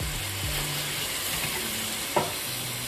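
Chicken and parsley being stirred in a hot frying pan, with steady close sizzling throughout and a soft scrape of the utensil against the pan partway through.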